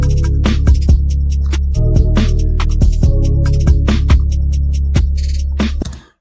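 Synth bassline preset played around C3 with reverb, a loud sustained low bass note under a pattern of short percussive clicks, fading out at the end.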